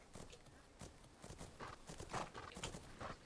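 Horse hooves during a test ride in a video game: a steady run of soft clopping beats at walking pace, fairly faint and even, with no talk over them.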